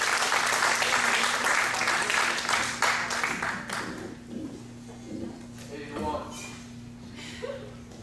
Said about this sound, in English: everyone give a warm round of applause for Elmore.